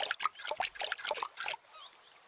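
Water trickles and splashes in short bursts as plants are watered in the video game Summer in Mara, then the sound cuts off into quiet.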